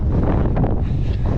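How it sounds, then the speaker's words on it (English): Wind buffeting a GoPro Hero 11 microphone on a trail run, loud, close, low rumbling gusts that fill the whole clip with brief rustling surges, no voice heard. "Got a little bit windy."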